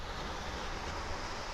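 Calm Black Sea waves washing against the coast in the morning, a soft steady wash of surf noise with light wind, fairly faint and continuous with no voices.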